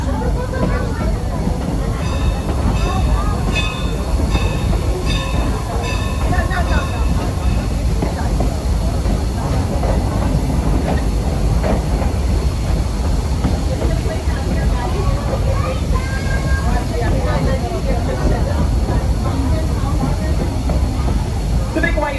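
A 1930s-era steam train on the Strasburg Railroad in Lancaster County rumbles steadily along the rails with continuous low roar and faint rhythmic clatter, with some voices and background chatter mixed in.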